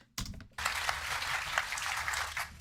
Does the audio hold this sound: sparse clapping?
yes